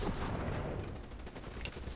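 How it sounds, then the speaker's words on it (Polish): Turret gunfire in Call of Duty: Black Ops III multiplayer, a dense continuous rattle of rapid shots, loud and close, with no gaps over two seconds. "Teraz muszę użyć działka."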